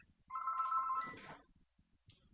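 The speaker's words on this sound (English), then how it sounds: "we're getting a phone call" A telephone rings once in an indoor setting during a game show: a quiet, steady electronic tone lasting under a second, followed by a soft clatter as it is picked up.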